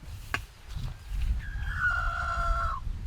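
A rooster crows once in a drawn-out call at moderate distance, over low background rumble and some faint activity.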